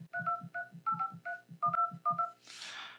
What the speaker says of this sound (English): And then we'll type in the phone number we want to call.